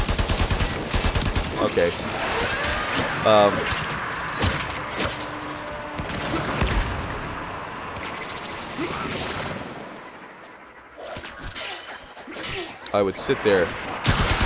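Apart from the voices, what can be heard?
gunfire in the video game Warframe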